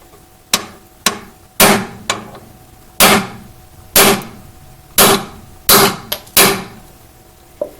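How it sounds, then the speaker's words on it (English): A hammer strikes a 5/16 socket during crossbar installation on a Trio-Trainer bike trainer, about ten sharp, close metallic blows at uneven intervals, each ringing briefly. "take a hammer and you're going to hit the socket"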